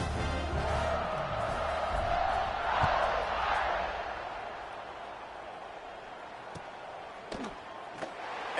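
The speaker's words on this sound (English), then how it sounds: "this crowd is buzzing after that last score" Stadium crowd noise at a college football game between Notre Dame and Virginia, a broad steady roar with a swell near the start that gradually settles to a lower hum, with scattered thumps later.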